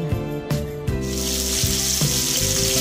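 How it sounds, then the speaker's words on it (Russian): Marinated chicken legs sizzle in a frying pan, a steady bright crackle rising after about one second, with a few dull knocks and clatters from the pan near the start. "Будем жарить с обеих сторон до румяности."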